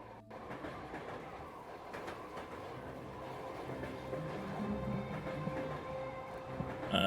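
Train carriages rattle steadily in the Repella Fella video game, a dense continuous rumble and clatter that swells slightly toward the end, with no talk over it.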